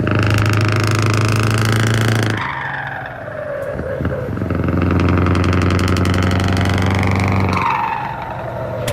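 A big turbocharged V8 engine of about 500 horsepower runs steadily with a deep rumbling drone, rising and falling in pitch as it revs, loud and close throughout.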